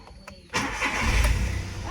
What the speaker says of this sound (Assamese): ষ্টাৰ্টটো দিলেহে দেখিব নেকি